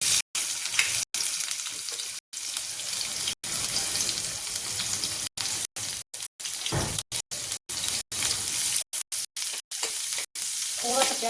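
Chopped onion fries in oil for a spinach and urad dal saag, giving a loud, close, continuous sizzle. It is broken by many brief dropouts, and no one speaks.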